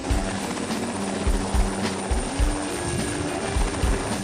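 A helicopter's rotor thumps in a steady rapid chop with a droning engine, loud and fairly close, no voices.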